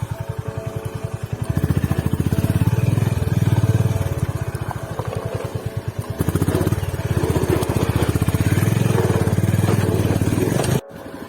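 A motorcycle ridden off-road near Kanva reservoir, its engine pulsing close and loud with a rapid rhythmic thump, easing briefly mid-way then rising again before cutting off abruptly near the end.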